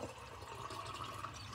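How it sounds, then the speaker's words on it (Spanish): Water pours steadily into a pot of birria in a crockpot, a continuous liquid splash and gurgle lasting the whole moment, close and fairly soft, with no talk. "voy a poner una media taza de agua de esta"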